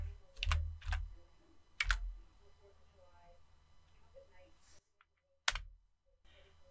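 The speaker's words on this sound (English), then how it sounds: "press I on your keyboard to set a keyframe" A few computer keyboard key presses sound as sharp, isolated clicks, spaced irregularly and close by, with someone speaking quietly between them.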